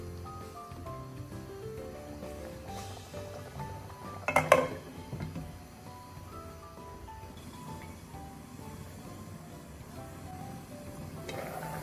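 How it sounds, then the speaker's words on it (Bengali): A metal cooking-pot lid clatters once with a short, bright clink while chicken and bottle gourd curry cooks, against a quiet background of soft music. "ঢাকনা খুললাম।"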